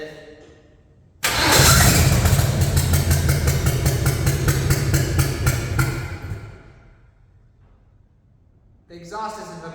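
A 1960 Chevrolet El Camino engine cranks and fires with its exhaust disconnected, running loud and rough for about five seconds before dying away, and faint voices follow afterward.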